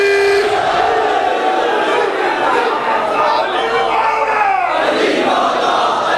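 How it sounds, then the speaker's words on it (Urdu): A large crowd at a Shia religious gathering chants a Haidari slogan together, a loud, dense mass of voices sustained throughout with rising and falling shouts. "ہاتھ اٹھا کے سارے مل کے حیدری"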